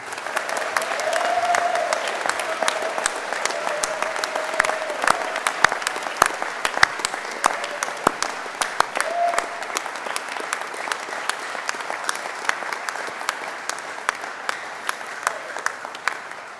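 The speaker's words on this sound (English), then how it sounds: "give our new graduates, our PhD honours students, and all of the wonderful staff of this university here a big round of applause" Sustained applause from a large audience at a Charles Darwin University graduation ceremony, a long, steady wash of clapping for new graduates with faint voices mixed in.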